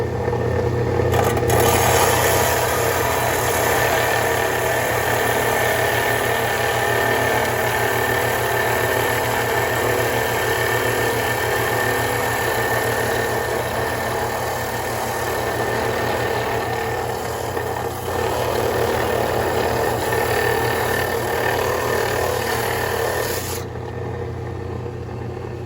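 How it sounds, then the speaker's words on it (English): A trim saw cuts through a potato patch geode in a steady, loud, continuous grinding whine with a low mechanical hum beneath, holding for about 24 seconds before the sound drops at the end. "We're going to try cutting on the trim saw."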